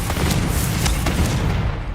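A Confringo spell explosion in the video game Hogwarts Legacy booms loudly and close, a rumbling blast with a few sharp crackles that fades out.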